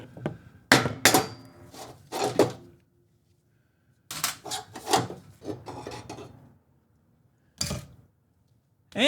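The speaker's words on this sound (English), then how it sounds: "And just use a block of wood and give it a tap." A block of wood taps a spindle pulley on a Husqvarna riding lawn mower deck, sounding as several clustered knocks in bursts with gaps of quiet, close up and with no talk.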